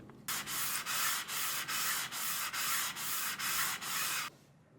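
Sandpaper rubs steadily over grain filler on a wooden guitar body in about ten even back-and-forth strokes, close and continuous, with no voices.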